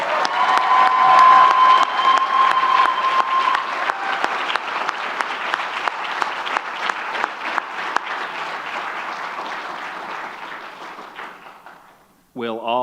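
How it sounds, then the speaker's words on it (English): Loud, sustained applause from a commencement ceremony crowd at Yo San University, dense clapping that slowly thins and fades out, with a brief spoken voice at the very end. "Please give all of our doctoral students another round of applause."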